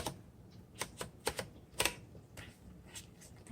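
A 1960 Royal Heritage vintage typewriter types in an irregular run of sharp, hollow-sounding key strikes, some louder clacks standing out, close and alone with no talking.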